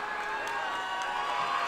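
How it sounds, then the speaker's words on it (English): A high school basketball crowd in a gym celebrating a regional championship win, a broad roar of cheering and shouting that stays at a steady level, with a few claps standing out. "Listen to the crowd."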